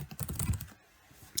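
Keys clatter in a quick burst of typing on a computer keyboard, then a quiet pause before a single sharper keystroke lands at the end like an enter press, close and clear with no voices.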